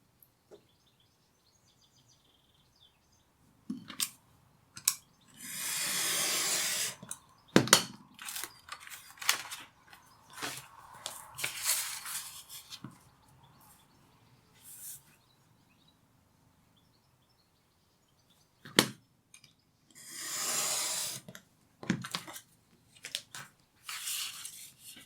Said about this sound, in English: I'm going to cut that out using a straight edge and a knife.